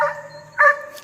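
A big dog in a kennel yard beside a chicken yard gives two short barks, the second louder, with a brief pause between them.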